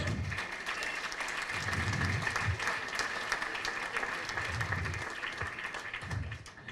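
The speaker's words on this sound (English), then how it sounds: "I think they need a big round of applause" A theatre audience at an Irish one-act drama finals awards ceremony gives sustained applause, a dense steady wash of clapping with low rumbling murmurs beneath, continuing for several seconds.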